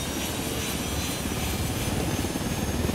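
Steady, close rotor thump and turbine drone of an unarmed helicopter in flight in Ghost Recon Wildlands, a loud continuous chop that holds evenly throughout with no voices.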